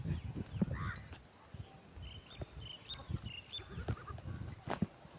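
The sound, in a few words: goats bleating while being herded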